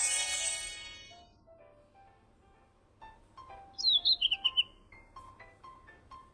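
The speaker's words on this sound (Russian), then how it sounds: "Птичка." A quick run of bright bird chirps in a video game, five or six rapid notes, sounds near and clear after a fading tone and soft game beeps.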